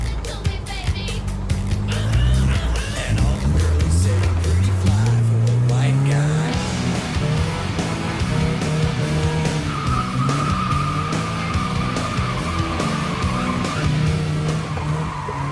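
A modified car is driven hard, its engine revving loudly throughout while the tires squeal and skid in long smeared tones, close and continuous.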